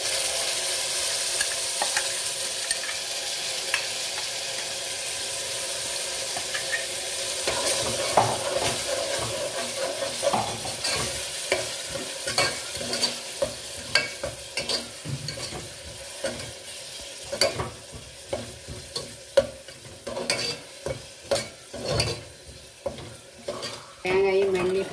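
Ground coconut and garlic paste frying in a pan for rice and dal makes a continuous sizzle, with repeated scraping stirs and utensil clatter growing busier partway through.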